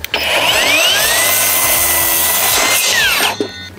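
Cordless battery-powered tool cutting wooden legs for a DIY raised garden bed, a loud continuous whining buzz with shifting pitch as it bites through the timber, then stopping abruptly.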